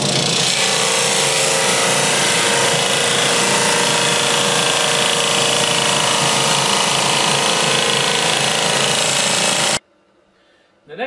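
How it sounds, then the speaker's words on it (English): A sander works crossbow wood parts down to thickness, giving a loud, steady abrasive whir that runs continuously for nearly ten seconds before cutting off abruptly, leaving brief quiet. "So we're going to sand those right now before we make all of these parts."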